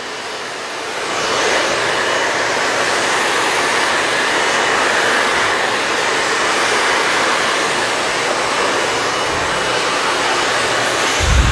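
A hair blow dryer runs steadily in a salon during a medium-length layered haircut, giving a loud, continuous broadband whoosh that stays even from start to finish with no talking.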